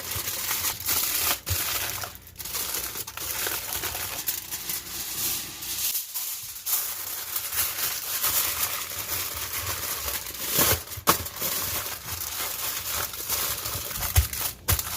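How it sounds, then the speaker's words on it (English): Seasoned food is wrapped in aluminum foil for grilling, producing continuous close crinkling and crumpling that runs throughout with a brief lull midway. "somehow we're gonna wrap this up in the foil"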